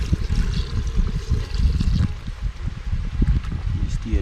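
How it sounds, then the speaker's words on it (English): Water poured into a cooking pot of octopus and conch curry gives a soft, uneven splashing and trickling, fairly faint and close, with light clattering in the background. "And add a little more water and ice."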